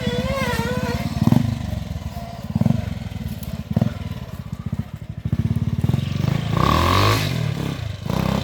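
A French Motobécane trial motorcycle at a classic trials event runs with a steady buzzing two-wheeler engine note that swells and dips as it revs, with clattering, scraping and thuds over rough ground and onlookers' voices nearby.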